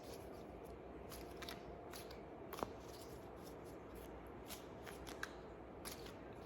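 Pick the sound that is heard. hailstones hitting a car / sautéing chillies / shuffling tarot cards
shuffling tarot cards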